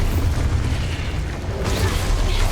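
Expulso spell explosion in the Hogwarts Legacy video game, a loud continuous rumbling blast filling the whole moment, with a fresh surge of crackling burst partway through.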